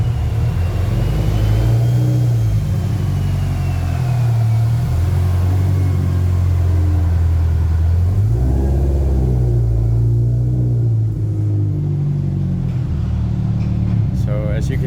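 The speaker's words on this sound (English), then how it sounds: "I can hear the car coming now." A Subaru STI tuned with a G30-900 turbo, a road-registered car making about mid-600 wheel horsepower, rumbles steadily as it approaches and arrives, its engine note rising and falling through the clip while people talk over it.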